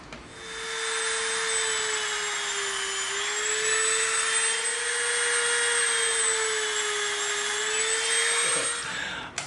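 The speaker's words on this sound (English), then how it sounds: "we put our wider one back in, and what we're going to do is we're going to make some rivet marks in the hand grip" A Dremel rotary tool fitted with a wide bit pressing rivet marks into EVA foam, giving a steady high-pitched whine that holds for about nine seconds with slight wavering in pitch, close and fairly loud, then stops.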